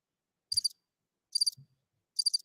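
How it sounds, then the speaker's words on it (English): Crickets chirp in three short, evenly spaced bursts, each a quick high trill, fairly faint against an otherwise quiet background with a soft low thump under the first two. "You hear them crickets there?"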